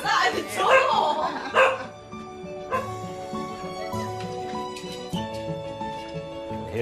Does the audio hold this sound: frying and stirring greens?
no